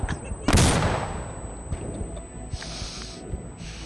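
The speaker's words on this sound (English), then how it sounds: "Flash grenade going down!" A flash grenade going off in the tactical shooter Insurgency, a single sharp, loud bang followed by a ringing tone and scattered distant shots.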